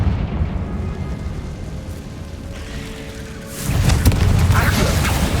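A Confringo explosive spell from the Hogwarts Legacy video game bursts into a loud, roaring blast midway through, following a stretch of lower rumbling game ambience.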